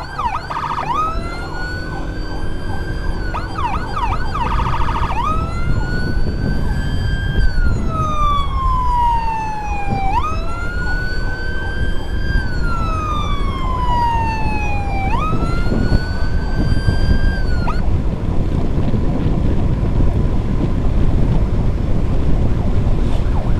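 A loud ambulance emergency siren wails continuously, its pitch sweeping up and down in long repeated cycles over steady background rumble and wind noise.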